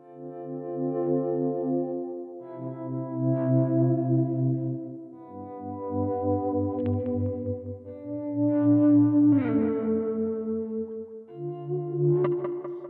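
An electric guitar runs through a Helix transistor tape echo set to a fairly high mix for an ambient tone. Slow, sustained notes and chords ring out, each trailed by soft repeating echoes, with no one talking.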